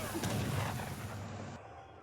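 Heavy cannons boom in a real-time strategy battle near a fort, a burst of deep rumbling artillery fire that swells early and then cuts off abruptly, leaving faint background noise.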